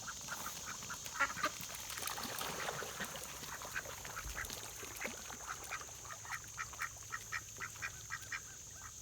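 A small flock of farm ducks quack and dabble noisily while feeding outdoors, close and busy, with rapid repeated calls and chattering over a steady background hiss and no voices.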